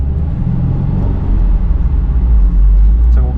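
A Stage 2 Subaru RA STI accelerates from inside the cabin, a loud steady engine and intake rumble rising in drone, with a brief whooshing hiss near the end that could be the blow-off valve venting.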